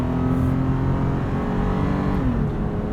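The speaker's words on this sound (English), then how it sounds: "Plenty of power from this V6." V6 engine of a 2017 Toyota 4Runner TRD Off-Road accelerating on a night drive, heard from inside the cabin as a steady mid-level drone with rising tones and road noise, with no speech.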